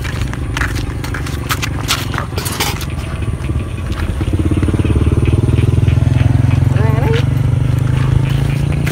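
A worn Yamaha Jupiter motorcycle fitted with a loud helicopter-style exhaust idles roughly and then revs harder into a steady, throbbing roar close by, while people talk over it.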